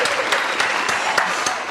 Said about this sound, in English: Round of a fucking applause.